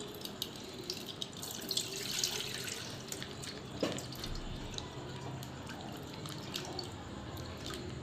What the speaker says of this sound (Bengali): দুধটা আমি ঢেলে দিলাম